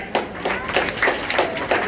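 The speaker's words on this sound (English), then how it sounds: "Give a big round of applause for her." Applause for a woman welcomed on stage at an Independence Day school celebration: a steady patter of many hands clapping close by, with soft pulsing swells and no speech over it.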